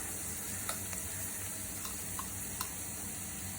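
Ginger garlic paste frying with golden onions in a pan for Suvarna gedde (elephant foot yam) sambar gives a soft, steady sizzle, with a few faint ticks of a spoon stirring.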